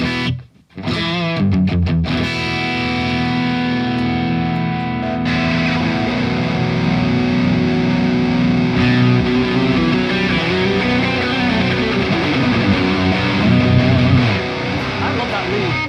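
Heavily distorted electric guitar lead using an Explode lead 2 preset, playing sustained, loud shredding lines with dense effects for about fifteen seconds after a brief choppy start.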